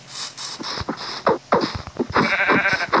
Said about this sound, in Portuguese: Já vou começar a matar a próxima ovelha aqui